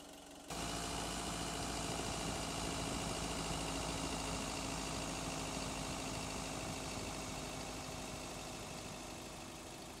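An engine idle loop built in FMOD with long fades plays as a steady, droning low hum with a constant mid-frequency rumble, starting abruptly after a brief moment and holding evenly throughout, fading slightly toward the end.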